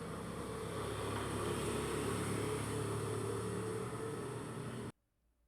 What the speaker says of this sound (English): So that sound was for a scooter